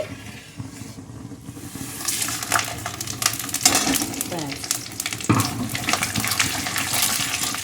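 Whole spices and white cumin sizzle and crackle loudly in hot oil in a home kitchen pan, a dense steady hiss with sharp pops throughout, with no voices present.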